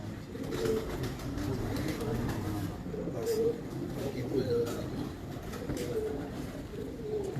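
Several pigeons in a coop coo steadily and fairly close, with overlapping low rolling calls and no talking.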